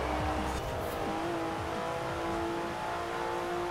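A Porsche engine drones steadily at speed in Forza Horizon 4, a sustained fast, powerful car note with faint tire noise, heard alone without talk.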